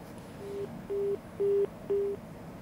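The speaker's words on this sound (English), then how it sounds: "we lost that phone connection with Tamal" A telephone busy signal follows a dropped phone connection during a news broadcast: four evenly spaced, steady low beeps, clear and alone against faint line hiss.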